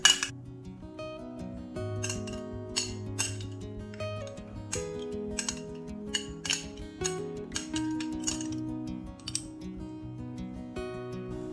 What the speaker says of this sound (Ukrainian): Всі інгредієнти змішаю у мисочці.